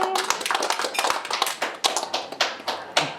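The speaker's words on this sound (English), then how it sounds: "some people downstairs were clapping as well" Applause from an audience gathered downstairs, a run of quick, uneven hand claps that sound fairly close and lively, then thin out into a handful of scattered individual claps toward the end, with no voices.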